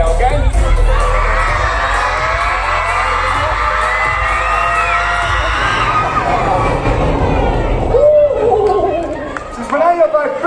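A crowd of spectators shouts and cheers loudly in a sustained roar with children's shrill cries on top. It breaks off with a bang near the end, and then excited individual voices follow.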